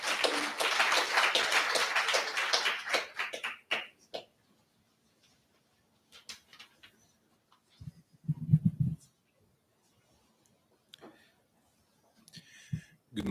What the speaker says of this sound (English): let's give a very nice, warm, welcoming applause to Matesh Kendrick.